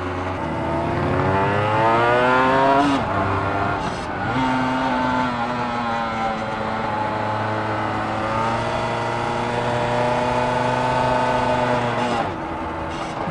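Honda NSR250 two-stroke motorcycle climbing a small hill in first gear, its engine revving in a rising and falling whine with gear-like pitch sweeps, close and steady under wind noise.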